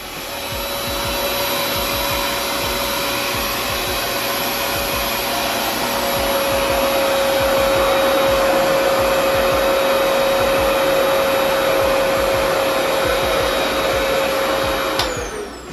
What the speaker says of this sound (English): I just blow dried my hair in 15 minutes.